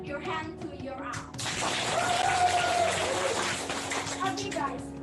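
Audience applause at a live English public speaking competition, a broad burst of clapping rising midway and continuing at moderate level, preceded and overlapped by talking.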